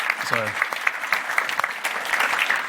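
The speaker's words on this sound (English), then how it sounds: "can we give Brian a big round of applause" Audience applause at a cybersecurity conference in honor of the event's organizer, a steady patter of clapping from a seated crowd throughout, with a brief voice audible near the start.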